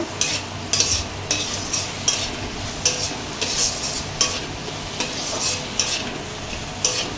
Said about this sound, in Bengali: ভালো করে মশলাটা কষিয়ে নিয়েছি।